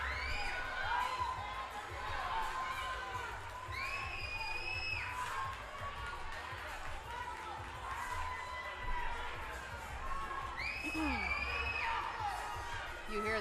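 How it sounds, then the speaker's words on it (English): Crowd at the Burn Boot Camp Athlete Games fitness competition cheering relentlessly, a continuous roar of shouts and whoops with children's cries, somewhat distant, under an announcer's commentary. "You hear the crowd. They're relentless here. They haven't stopped cheering this whole entire time."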